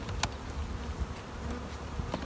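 Honey bees buzz in a dense, steady drone at an open hive during a beginners' hive tour, with a few individual bees zipping close by over the continuous hum.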